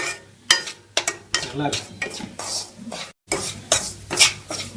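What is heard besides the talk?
cashews and raisins being fried and stirred in ghee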